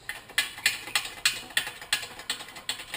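A socket ratchet clicks in a steady run of about a dozen crisp pawl ticks while tightening a wheel hub nut, close and alone, with no talk.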